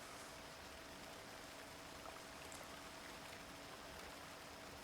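Rain falls steadily in Alan Wake 2, a faint, even hiss of drops with a constant low background hum and no other clear events.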